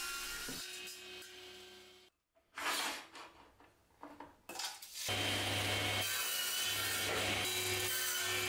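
Hand sawing of oak scraps being cut to thickness and ripped down, with rasping wood strokes, a brief pause, then a sustained, louder cut that runs to the end, close by.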